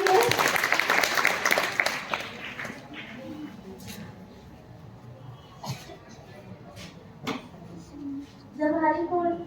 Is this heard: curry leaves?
no